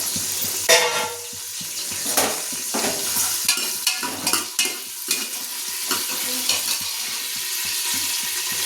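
Onion and curry leaves fry in hot oil for jackfruit sambar, a loud close sizzle broken by repeated scraping stirs of a spoon against the pan.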